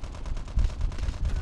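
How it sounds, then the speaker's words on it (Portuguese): Rapid automatic gunfire from Call of Duty Mobile rattles in a dense, loud burst of close shots with no pause. "o maluco tá me atirando aqui direto aqui"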